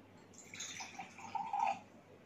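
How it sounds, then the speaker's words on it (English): Water trickles and splashes briefly into a glass during a classroom science experiment on sorting materials, a soft, close pour lasting about two seconds with no talking. "Again take little water in the glass."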